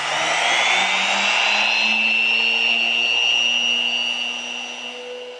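A plunge router cuts a mortise in wood, giving a loud, steady high-pitched whine with a sustained tone that drifts slightly and then begins to fade toward the end, with no voices.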